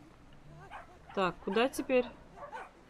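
A small dog in a fantasy adventure game lets out a few short, high yips and whimpering barks in quick succession, fairly close, with someone talking over them.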